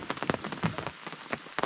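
Light rain patters on a nearby surface beside a remote Maine stream, scattered drops tapping irregularly and softly, with no voices.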